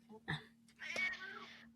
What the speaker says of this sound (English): if you guys can hear my cat